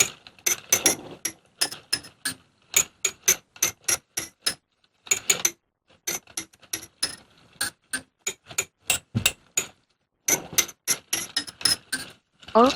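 A small 3D-printed mechanical music box plinks out a tune in sharp, clicky notes, with brief pauses between phrases and a faint ratcheting quality.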